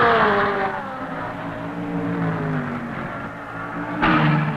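Race cars circling a 1-mile oval track in 1967, engines droning and whining in pitch as they pass, with a louder car sweeping close near the end.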